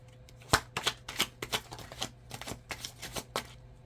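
Tarot cards being shuffled by hand, a quick run of crisp riffling flicks and soft slaps, close and fairly quiet with no talking.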